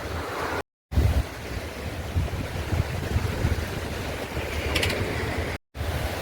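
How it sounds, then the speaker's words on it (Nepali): Steady rushing water of a river flowing beside a road near Paro market flows continuously, a full broadband wash with wind buffeting, and no voices. "खोला के मजाले साइडमा बगिरहेको छ"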